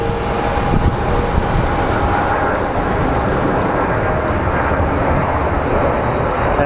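A KC military tanker aircraft climbing just after takeoff from Phoenix Sky Harbor International Airport, a loud, steady jet engine roar that holds evenly throughout without any talking.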